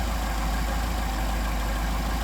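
Engine with a Solex carburetor idling steadily, a constant low mechanical hum with no talking.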